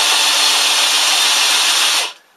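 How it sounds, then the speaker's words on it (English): A power drill drives a Lyman power adaptor trimming a brass cartridge case, giving a loud, steady high whine with rasping cutting noise for about two seconds before cutting off abruptly. "fit your screwdriver or your drill and just run"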